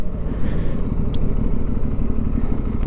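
A Benelli Leoncino 800 T motorcycle engine drones steadily while riding on the road, loud and close with constant rumble and wind roar and no pauses.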